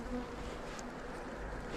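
Honeybees hum at an opened Farrar hive during an inspection, a soft, steady, continuous buzz from a few insects close by, with no voices.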